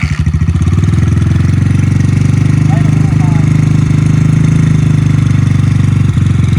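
Motorcycle running on E85 after a dead-cold start, a loud, close, steady idle with a fast rhythmic thumping and faint mechanical clatter throughout.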